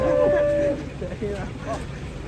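A cow being unloaded from a truck lets out a drawn-out low moo, followed by a couple of shorter, softer lowing calls, with some background noise around them.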